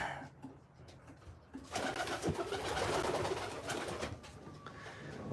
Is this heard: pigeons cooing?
yes